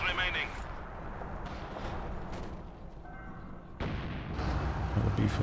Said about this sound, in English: Some base barrages here.